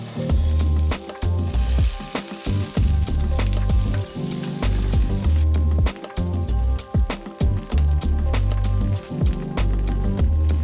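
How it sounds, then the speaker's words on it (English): Kidney beans, vegetables and leftover spam stir frying in a pan, with loud continuous sizzling and frequent scraping and clacking of the utensil, close and busy throughout with no talking. "just do like a stir fry with the vegetables and the leftover spam"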